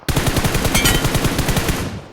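Rapid automatic gunfire in a video game rattles in a sustained burst, loud and close, with evenly spaced shots for about two seconds.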